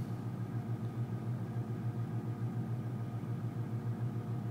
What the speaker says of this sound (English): it's a really nice sounding car